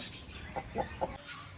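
A rooster gives three short clucks in quick succession, faint and close against a quiet farmyard background.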